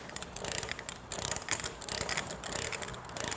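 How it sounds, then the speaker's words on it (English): A torque wrench set to about 30 foot-pounds ratchets on the front hub of a 1978 Vespa P200E scooter, a fast continuous clicking in short bursts, close and fairly loud, with no voices. "And my torque wrench set to around 30 foot-pounds."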